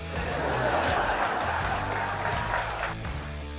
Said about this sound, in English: Got a smattering of applause.